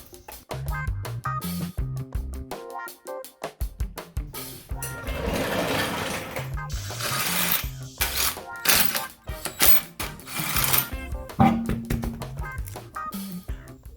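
Lug nuts being spun onto wheel studs on an MK4 Golf, a busy stretch of rapid metallic clicks, taps and whirring ratchet runs, close and fairly loud, with some background sound mixed in.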